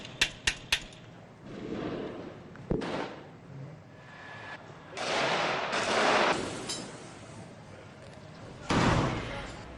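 Gunfire in a firefight in northern Gaza: a quick burst of three sharp shots, then scattered louder blasts and rumbling booms at irregular intervals with some distance.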